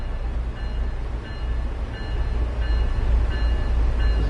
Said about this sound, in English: This is my train right here.